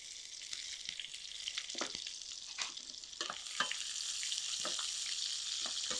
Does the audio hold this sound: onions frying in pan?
yes